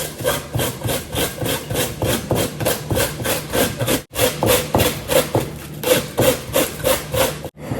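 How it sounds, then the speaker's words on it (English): Cabbage wedge scraped over the large side of a hand grater, a close, rhythmic run of raspy shredding strokes about three per second, with two brief pauses between bursts and no voices. "I am using the larger side of this hand grater and just go ahead and grate it."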